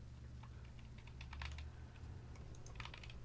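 Keystrokes on a GK66 60% RGB optical keyboard, a steady run of close, crisp clicks in short bursts, heard alone.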